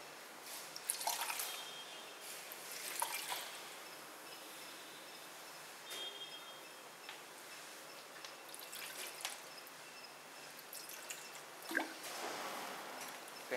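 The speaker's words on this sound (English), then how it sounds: "So we will have to add colored water to the container." Colored water is poured into a container in a lab, heard as faint, irregular splashing and trickling with scattered drips, quiet and close, with no voices.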